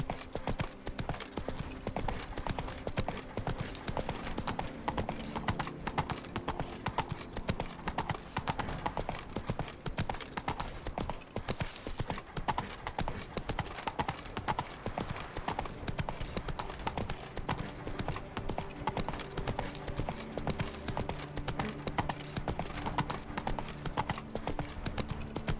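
Roach the horse gallops in The Witcher 3, Blood and Wine, with rapid, continuous hoofbeats throughout, close and even over a low background of game ambience.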